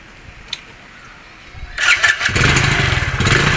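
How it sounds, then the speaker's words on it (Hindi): A motorcycle engine cranks and catches, quiet at first, then roars up loudly and settles into a steady, close running rumble. "अभी मैं इस गाड़ी को स्टार्ट करूँगा"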